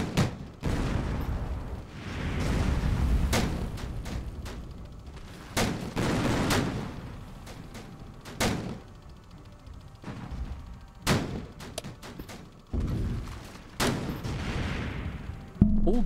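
Heavy naval guns fire in a World War 2 sea battle in Victory at Sea Atlantic, with shells striking a ship. Loud booming shots and impacts land at irregular intervals, some clustered into quick volleys, separated by short rumbling lulls.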